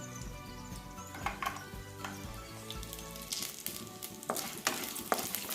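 Tamarind sautéing in a pan for a foxtail amaranth chutney, a soft sizzle broken by scraping stirs and spoon taps on the pan that grow busier and louder toward the end.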